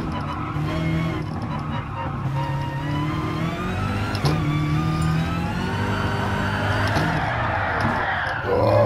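A race car in Gran Turismo Sport accelerates over a curb, its engine droning and rising steadily with a brief tire squeal, continuous and fairly loud throughout.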